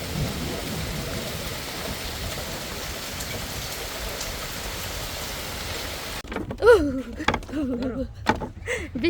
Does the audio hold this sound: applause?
no